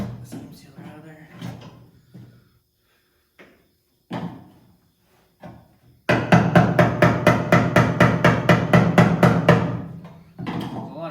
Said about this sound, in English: Scraping that seam sealer out of there.